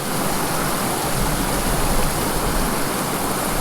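The Thalanar waterfall and its stream near Valparai rush loud and close, a dense unbroken roar of running water filling the whole stretch with no voices.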